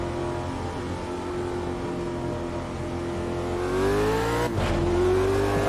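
Modded race car in Automobilista 2 with a Super V8-like engine, a loud sustained engine drone that rises in pitch, breaks briefly at a gear change, then climbs again, with no talk over it.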